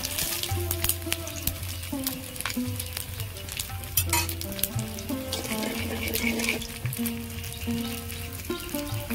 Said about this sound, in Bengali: পাঁচ ফোড়ন দেব, শুকনো লঙ্কা, 2 তেজপাতা,